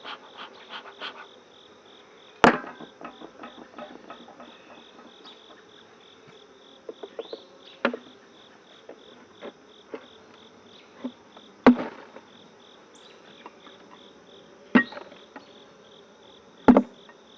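Insects hum and buzz at a honey bee apiary hive, a steady faint drone broken by sharp knocks and clicks of hive equipment, close by with no talk.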